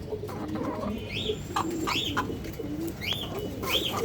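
Soft repeated cooing from several racing pigeons, including black racers, close by in a loft, with scattered chirps and faint wing flutters over a low steady background hum.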